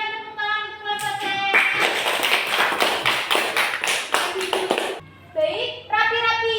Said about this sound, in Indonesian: Coba berikan tepuk tangan untuk kelompok C.